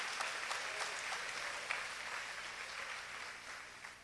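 Church congregation applauding at the end of a sermon at a Korean church service, steady dense clapping from many hands filling the room throughout, moderately loud and continuous with no talk over it.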